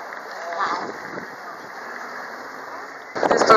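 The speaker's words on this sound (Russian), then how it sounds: "Яхта поехала." A yacht sets off on the river at Manavgat in Turkey, giving a steady, rushing drone of engine and water mixed with wind buffeting, with a louder gusty burst at the very end.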